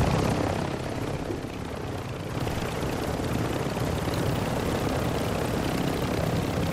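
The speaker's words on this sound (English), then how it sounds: "grabbing the chopper with you" A helicopter in the Call of Duty video game drones loudly and continuously with a rotor-like throb and engine roar, steady throughout with no speech.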